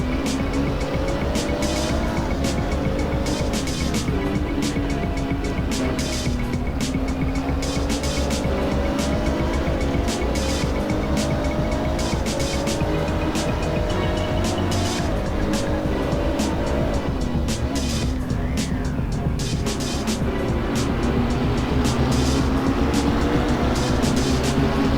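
GT3 race cars in Assetto Corsa on the Zandvoort circuit brake into a corner, engines roaring and shifting pitch with tire squeal over a loud, continuous drone of several cars close together.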